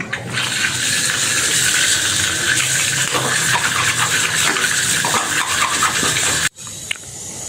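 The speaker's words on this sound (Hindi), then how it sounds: "बर्तन वगैरह धो लूँ, सामने बर्तन पड़े हुए हैं।" Dishes being washed under a steadily running tap, a continuous broadband rush of water that holds throughout and then cuts off abruptly near the end, followed by a brief quieter stretch.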